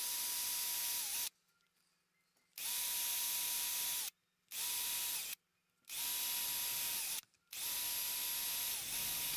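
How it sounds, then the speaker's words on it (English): Power drill boring holes into a knife handle, running in four steady high-pitched bursts separated by short pauses, close and loud with no talk. "I under drilled these holes just a little bit smaller than the nails that I wanted to drive through"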